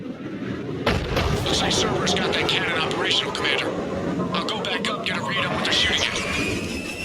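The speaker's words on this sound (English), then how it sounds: "Looks like Cerberus got that cannon operational, Commander." A heavy cannon booms in the video game Mass Effect 3, one sharp blast followed by sustained rumbling fire and whooshing, loud and dense, with voices speaking over it.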